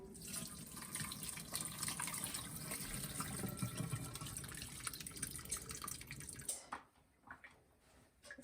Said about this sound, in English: So I'm actually gonna run this under cold water a little bit.